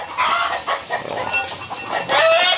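Chickens cluck and squawk nearby on a cattle farm, with irregular overlapping calls over a steady background murmur and no speech.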